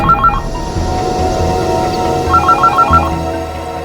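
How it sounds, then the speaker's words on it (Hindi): A phone ringtone plays in an indoor scene from a Hindi crime drama. Short bursts of repeating electronic trill sound near the start, then again after a pause. Steady background music runs underneath. "ये किसका फोन आ गया?"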